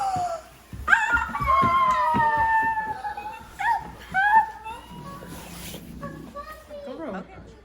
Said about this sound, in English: You got a new puppy!